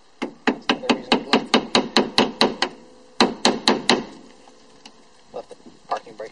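Repeated hammer strikes knocking off the rear wheel hub cap of a Honda Civic, two fast bursts of about a dozen sharp metallic blows each, then a few scattered taps, close and loud.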